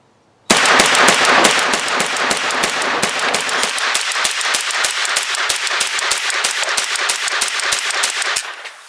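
Kalashnikov-USA KR9 firing Fiocchi 115 grain rounds in a long, rapid string of sharp, loud, evenly spaced shots at close range, continuing steadily for about eight seconds.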